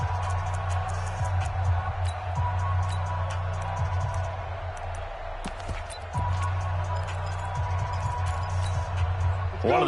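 Stadium crowd in a PS4 American football video game swells steadily around a big third down, a continuous roar with low rumble and scattered thuds, under game commentary talk throughout.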